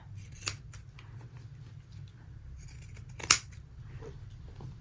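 Dress fabric is cut with scissors, giving a few soft, quiet snips, with one sharper closer snip near the end, over a low background hum and no talking.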